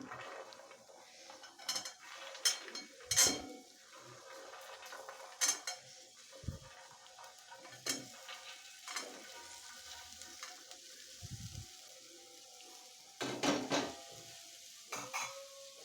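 Chickpeas, peas, jujubes, sugarcane pieces and peanuts go into a frying pan for a mixed vegetable dish, giving scattered clatters, metal scrapes and knocks over a soft, quiet sizzle, with no voices.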